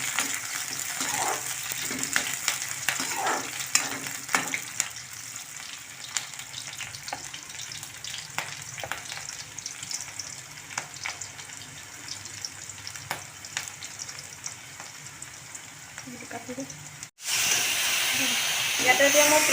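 Sliced onions and a green chili frying in hot oil for egg curry, a steady close sizzle and hiss with faint stirring clicks throughout, the sizzle surging louder near the end.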